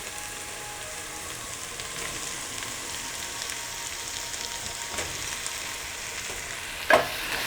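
Fatty round steak frying in a pan with little oil, a dense continuous sizzle like light rain, even and close, with a brief clatter near the end and no speech.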